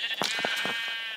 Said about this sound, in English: she killed a sheep by punching it off of a hill